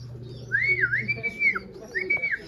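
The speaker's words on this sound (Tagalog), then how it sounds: "First bird natin si Astro." A racing pigeon arrives at the loft after a 227 km derby race from San Jose, Nueva Ecija, with a man whistling clear, rising and falling calls to bring it in, plus a low steady hum underneath.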